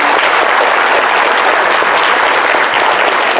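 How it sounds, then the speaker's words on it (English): Audience applauding Dr. Miller at a Pi Day school district event, a dense, steady wash of many hands clapping close and loud, with no voices over it. "if we could give Dr. Miller a round of applause, please"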